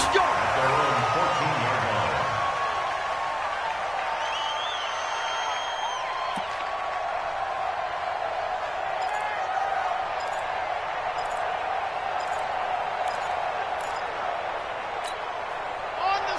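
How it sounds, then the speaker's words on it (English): Stadium crowd roar from a Madden football video game, a steady, broad wash of cheering that holds throughout, with a commentator's voice talking over it at the start. "The crowd maybe losing just a little bit of the edge after back-to-back punts."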